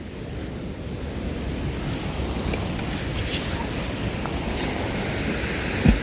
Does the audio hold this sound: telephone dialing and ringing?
no